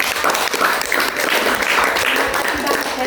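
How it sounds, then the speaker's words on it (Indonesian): A group applauds a nun at a gathering: dense, continuous clapping fills the whole stretch at a fairly loud level, with some voices mixed into the crowd noise. "beri tepuk tangan kepada suster"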